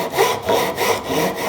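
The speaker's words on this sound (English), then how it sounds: "We don't want to force the saw downwards at all." A hand saw cuts a groove in wood with light back-and-forth strokes, about five steady rasping passes in an even rhythm, close and clear with no voices.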